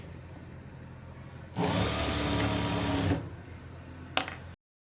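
A sewing machine runs in one steady burst of about a second and a half while stitching the waistband of a semi patiala pant, followed by a short tap and then silence.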